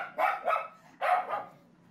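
A dog barks three times, sharp and fairly close: two quick barks, a short pause, then a single longer bark, with quiet in between.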